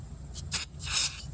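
Two or three short, hissing bursts of carburetor cleaner sprayed close by on a 2004 Murray 22-inch lawnmower, the last one longest, against a quiet background.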